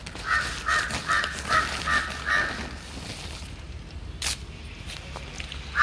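A crow caws repeatedly in a quick series of harsh calls, fairly close, then falls quiet apart from faint outdoor noise and a brief thump.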